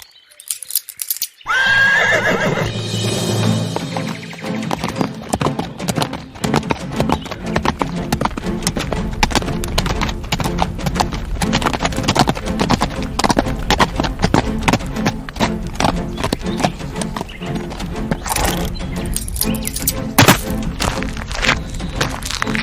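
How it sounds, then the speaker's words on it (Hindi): A horse gallops hard, with rapid, loud, continuous hoofbeats that begin after a brief whinny and run for about twenty seconds. "उसका घोड़ा हवा से बातें कर रहा था।"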